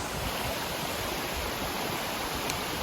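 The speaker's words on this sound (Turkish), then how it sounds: "bu şelaleler yukarıdan akıyor ama burada göl, cüp yok" Waterfalls in a Swiss valley in the Verzasca area pour down from above, making a steady, loud, broadband rush of water with no pauses.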